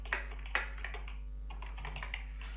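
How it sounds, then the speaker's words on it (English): Typing on a computer keyboard while writing HTML nested lists, with a rapid irregular run of close, soft key clicks and a couple of sharper taps, no talking. "And here I'm just typing flame, whatever I got in my mind, I'm just typing."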